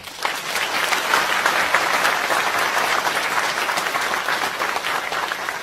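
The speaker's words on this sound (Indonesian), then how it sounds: "saya minta teman-teman tepuk tangan untuk beliau." Loud, dense applause from a large audience at a Sinau Bareng gathering, a continuous wash of many hands clapping at an even level from start to finish.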